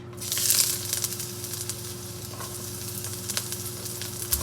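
Ginger and garlic hit hot vegetable oil with a sudden loud sizzle that settles into steady close frying, with a few small pops and stirring clicks, and no speech.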